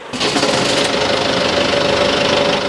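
A tractor engine runs steadily at a loud, even level throughout, with a sustained mechanical knock and hum and no talking.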